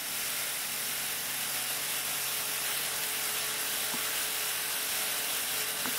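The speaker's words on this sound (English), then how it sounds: "This here is the motor that drives the bridge" An electric motor on a model single leaf bascule bridge demonstrator runs steadily as the span lifts, a continuous ratcheting gear whir at close range with no talk.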